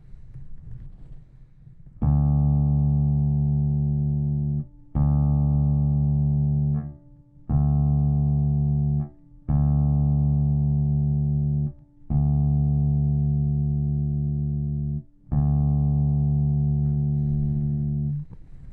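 A bass guitar played through an amp with the mids boosted rings out in six long sustained notes, each struck cleanly and left to decay before the next, loud and alone.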